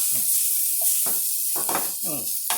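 Onions frying in a pan for Japanese-style spaghetti Napolitan give a steady broadband sizzle throughout, with some short bursts of stirring or pan movement over it.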